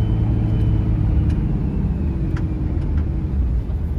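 A 2004 Dodge Ram 3500 one-ton 4x4 pickup with a Cummins 5.9 diesel idles steadily, its deep, even rumble close and continuous with a faint clatter on top, no voices.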